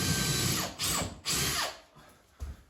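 A power drill whirs in several bursts while fixing kitchen fittings, its motor pitch rising and falling, with short pauses between runs and a brief final spin.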